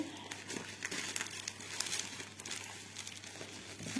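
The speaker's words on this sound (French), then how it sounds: "Donc, je déballe sur le côté." Quiet, continuous crinkling and crackling of a heavily taped package being handled and pulled apart nearby, with scattered sharper rustles throughout.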